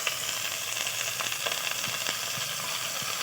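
Ginger and garlic paste sizzles steadily in a hot pan with cabbage, a close, dense frying hiss with faint crackles throughout and no talking.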